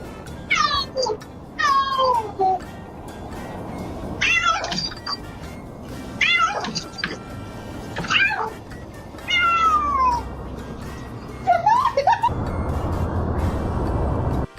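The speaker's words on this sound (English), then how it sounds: "This cute little cat was waiting to go outside" A cat meowing over and over, about seven drawn-out, wavering cries at irregular intervals, loud and close, with some background noise and no speech.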